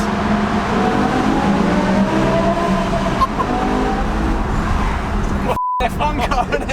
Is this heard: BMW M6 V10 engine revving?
yes